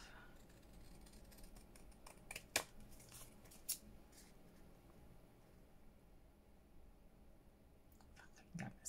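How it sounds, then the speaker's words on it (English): Quiet scattered snips of scissors trimming the edges of pressed flower journal cards, a few sharp clicks spaced apart over a soft background. "If I can get my scissors in,"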